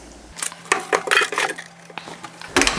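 A metal tray of Anzac biscuits slid into an oven, with clattering metallic knocks and clinks, a rack scrape and a final door clunk, close and loud.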